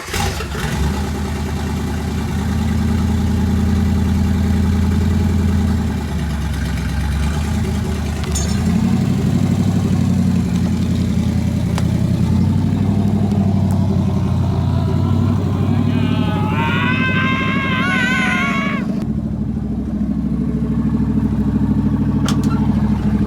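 A Dodge Dart race car engine idles with half its exhaust cut off, a loud, steady low rumble that holds throughout and swells slightly in places, with a brief tonal whine partway through.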